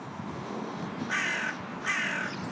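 Two harsh, raspy caws from a hooded crow, close and clear, the second following under a second after the first, against a faint, steady outdoor background.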